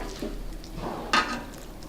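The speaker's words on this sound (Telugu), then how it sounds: "దీన్ని ఒక బౌల్లోకి తీసేసుకుందాం." Fried tomatoes moved from a pan into a bowl while making tomato chutney: a soft scrape, then one sharp clink of a utensil against the dish, fairly faint in a quiet kitchen.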